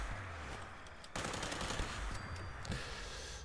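Rapid automatic fire from the V63-Bertha Tesla rifle in the game Fallout 76, a continuous crackling burst of shots lasting several seconds at steady loudness.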